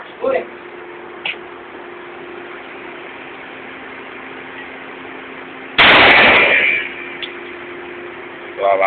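A single loud gunshot rings out during outdoor target shooting, preceded by a couple of faint sharp knocks, over a steady idling engine hum, with a short sharp crack at the very end.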